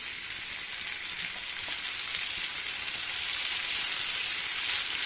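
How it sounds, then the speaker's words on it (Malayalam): Raw mango pieces sautéing in a pan over raised heat give a steady, close hiss of frying that holds evenly and grows slightly louder toward the end, with no voices. "രണ്ട് പ്രാവശ്യമായിട്ട് ഇട്ട് കൊടുത്ത് വഴറ്റിയെടുക്കണം."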